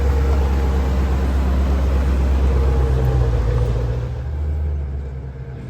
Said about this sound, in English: time for a test drive on the road